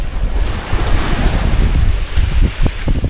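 Sea waves crash and wash up on the shore beside a campsite tent, with heavy low rumbling surges and gusty wind buffeting the microphone, loud and close, and a few sharper splashes near the end.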